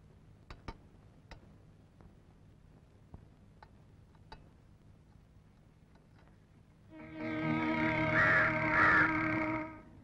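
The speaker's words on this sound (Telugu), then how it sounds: "అయ్యో కాకి మెతుకులు వేసి మర్చిపోయాను" Several crows caw together in a loud, ragged burst near the end, after a long stretch of faint ambient background with a few scattered light ticks.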